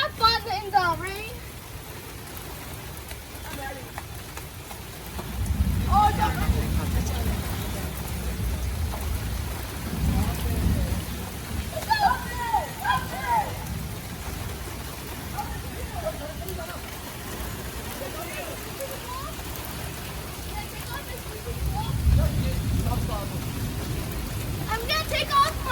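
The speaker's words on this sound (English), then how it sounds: "it started thundering, so we were just gonna have fun in the rain." Steady rain falls outdoors with low rumbles of thunder rolling in several times, heard under the scattered voices and laughter of people playing in the rain.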